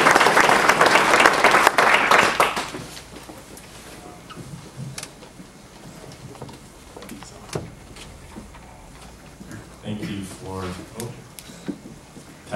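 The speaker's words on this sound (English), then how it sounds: "can we please get a round of applause for our participants?" Audience applause for the participants of a gender equity panel, a loud burst of clapping for about two and a half seconds that fades into quieter room noise, shuffling and a few knocks.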